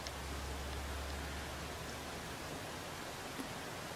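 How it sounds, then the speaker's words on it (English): Steady rain falling outside a house, a soft even hiss of drops on surfaces throughout with a low hum underneath, moderately faint and with no voices. "You hear the rain? It's actually raining outside."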